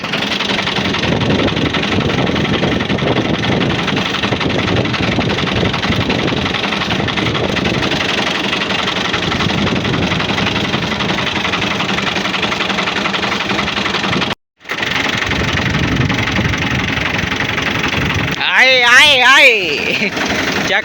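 A tractor engine idles nearby, a dense, steady rumbling drone that runs almost unbroken with one brief cut, and voices briefly rise over it toward the end.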